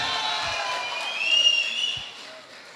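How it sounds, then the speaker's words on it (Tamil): Audience at a children's school annual day dance show cheers and applauds after a performance, a dense, steady wash of crowd noise that swells briefly in the middle before easing off. "இந்த ஹெவியான பெர்ஃபார்மன்ஸ்க்கு பலத்த கரகோஷங்கள் இன்னொரு தடவை"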